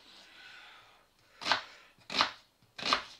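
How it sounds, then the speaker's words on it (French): An onion being chopped with a knife on a board: three distinct, crisp cuts spaced about two-thirds of a second apart after a soft brushing rustle, close and clear with no talking. "Donc là, on coupe l'oignon."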